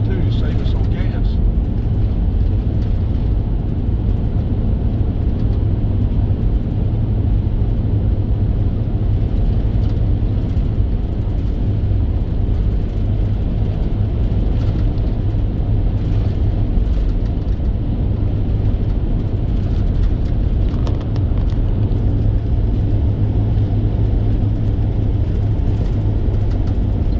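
Steady low road rumble from a car cruising on US Highway 41 in Georgia at about 50 mph in overdrive, a constant drone with no break.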